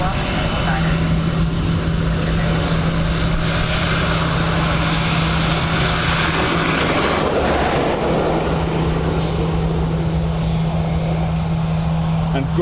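An Aer Lingus airliner passes at Dublin Airport on a wet day, a steady broad engine rumble with a sustained low hum, under continuous talk and radio chatter.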